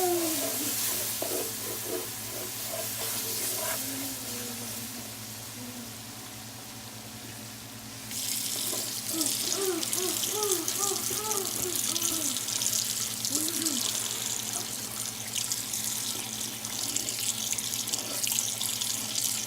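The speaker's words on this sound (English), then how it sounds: "Obviously, we're going to add some water to it." Tap water runs steadily into a pan to start gravy for Salisbury steaks, a low hiss that grows noticeably louder and fuller partway through, with faint stirring or sizzling textures underneath and no talking.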